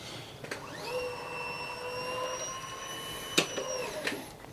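Scalamobil S25 stair climber with X3 seat running its electric motor, a steady close whine that starts abruptly, holds for several seconds and cuts off, with a click at each end.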